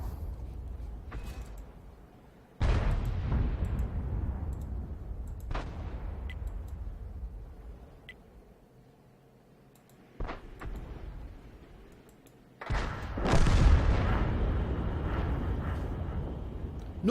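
A self-propelled artillery howitzer in World of Tanks fires several heavy booming shots with long rumbling decays, separated by quieter mechanical reload sounds.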